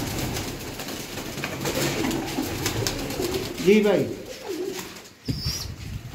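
Pigeons kept on a rooftop coo in low throaty bursts near the middle, close by, amid outdoor background noise; someone briefly speaks.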